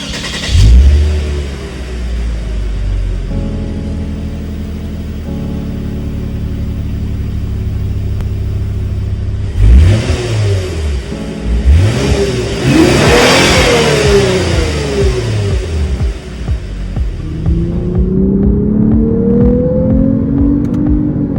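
A 2022 Lexus IS sports sedan on the road, its engine revving and accelerating in rising and falling sweeps, with a loud mid-pitched roar and rumble and occasional whirring, no voices.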